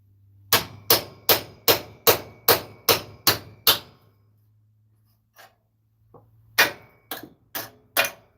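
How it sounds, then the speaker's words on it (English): A hammer strikes nine times in an even, rapid rhythm, each blow sharp and close. A quiet pause follows, then a few more strikes come at an irregular pace. "Need a bigger hammer, don't I?"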